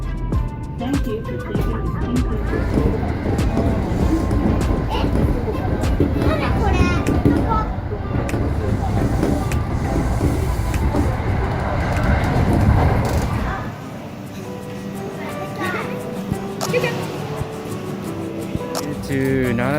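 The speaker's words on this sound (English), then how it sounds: "right now on a separate train and we're heading over to Nara" Steady rumble and rattle inside a moving train heading to Nara, Japan, with people talking over it, the noise dropping to a quieter hum near the end.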